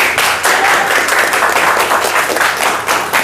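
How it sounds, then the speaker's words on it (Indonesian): Students in a classroom applauding a classmate, brisk close hand clapping from a small group, loud and lively for a few seconds. "Tepuk tangan untuk Raya."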